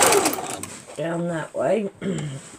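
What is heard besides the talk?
sewing machine stitching maple leaf quilt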